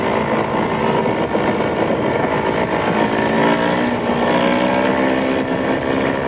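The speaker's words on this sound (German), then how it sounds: "Da fange ich den Wheelie an, bei 1 Minute 7, okay." A motorcycle engine holds a steady, loud, close drone as the bike rides a wheelie, with slight pitch wavering and no talking throughout.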